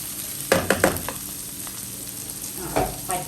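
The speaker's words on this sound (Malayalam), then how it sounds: "ഇടയ്ക്ക് നമ്മുടെ കണവയും ഒന്ന് ഇളക്കി വെക്കാം" Squid stir-fried in a pan with chillies and curry leaves for squid thoran, a soft steady sizzle broken by a few sharp clanks and scrapes of stirring, close with no voices.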